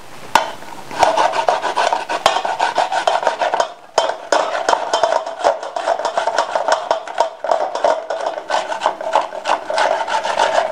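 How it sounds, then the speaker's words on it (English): Carrots being grated by hand on a small grater, a close, loud run of quick rasping strokes in a fast, uneven rhythm with a short pause partway through. "The next step where I go take now to use grater. Grate all these carrots like this."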